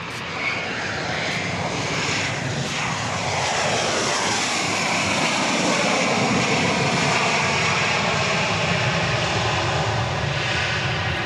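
Jet airplane landing on the runway at Dallas Love Field, a loud sustained roar of engines with a sweeping, shifting whine as the aircraft rolls past, steady and close throughout with no voices.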